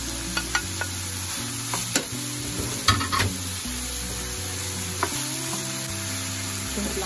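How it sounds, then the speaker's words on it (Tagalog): Chopped tomato frying in a pan for a meat pie, giving a steady close sizzle with occasional clinks of a utensil stirring against the pan and a faint background melody. "So, hulog na natin yung tomato."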